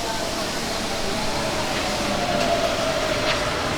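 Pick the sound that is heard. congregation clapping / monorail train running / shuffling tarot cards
monorail train running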